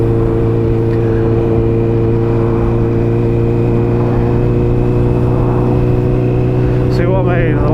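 A Honda CBR 650R motorcycle fitted with a Scorpion exhaust and quickshifter climbs a hill in third gear at about 30 mph. Its engine holds a loud, steady, even drone the whole way, with a voice talking over it.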